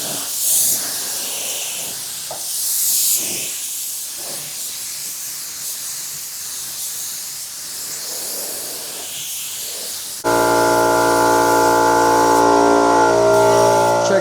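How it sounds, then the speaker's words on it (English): A spray gun lays Laguna Seca blue base coat onto a BMW E46 M3 in a steady hissing stream, with short pauses between passes, then switches to a louder continuous hiss with a droning tone for the final seconds. "let's shoot some base coat and see how it looks."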